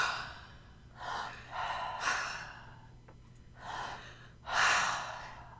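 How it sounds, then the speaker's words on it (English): Repeated sharp chest inhales during a charge breathing exercise, several forceful breaths in a row at close range, with quiet pauses and no talking. "charge breathing is done in the chest. It's a sharp inhale."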